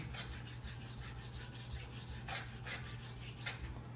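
A straight razor is stroked back and forth across a whetstone in quick, even rasping passes, close and fairly quiet, in a steady repeating rhythm with no talking.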